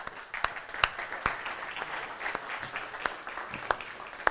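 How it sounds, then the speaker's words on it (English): Audience applause at a talk, a steady wash of clapping hands with sharper individual claps standing out throughout, moderately distant and sustained. "let's give them a big round of applause"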